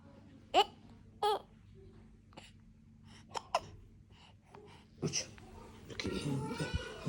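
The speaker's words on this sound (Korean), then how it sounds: "딸꾹질 떨어져라" A baby hiccups several times, short sharp catches spaced a second or more apart, close and moderately loud, with soft rustling and a parent's murmuring near the end.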